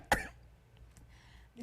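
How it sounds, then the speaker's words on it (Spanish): A single sharp cough, loud and close, followed by a quiet pause with faint room noise. "Disculpe por este absceso de tos."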